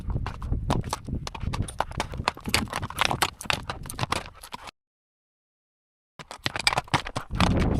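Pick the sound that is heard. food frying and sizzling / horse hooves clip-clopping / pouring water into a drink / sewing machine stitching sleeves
horse hooves clip-clopping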